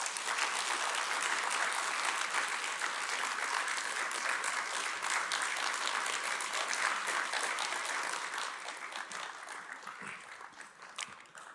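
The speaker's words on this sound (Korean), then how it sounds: "우리 대기자님 나오실 때 큰 박수로 환영해 주시면 감사하겠습니다." A hall audience welcomes a journalist with loud, sustained applause, many hands clapping continuously and dropping slightly toward the end.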